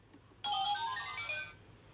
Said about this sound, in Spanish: ¡Suena cuando le metes un billete!